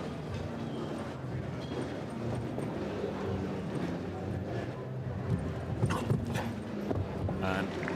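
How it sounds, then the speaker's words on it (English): Horse hooves clip-clopping on the footing of a show jumping arena in Barcelona during an international competition, steady and moderately close beneath a continuous commentary voice and arena crowd noise. "another lovely young horse that we've seen here in this arena this afternoon in Barcelona, as Niels Brunsins and Origo van der Vosberg"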